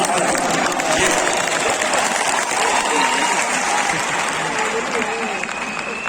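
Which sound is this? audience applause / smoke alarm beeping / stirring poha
audience applause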